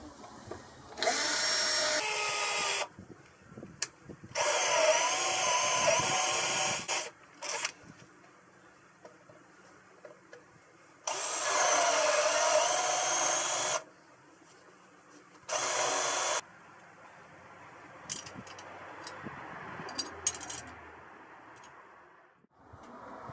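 Power drill with a brad point bit boring mounting holes for a grinder, several loud whirring bursts of one to three seconds separated by quiet pauses, with smaller clicks and handling noises between them.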